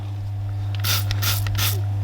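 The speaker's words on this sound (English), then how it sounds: "you can turn the trigger to have either a jet or a spray" Three short hissing sprays from a trigger spray gun set to spray or jet, in quick succession, close and sharp, over a low steady hum.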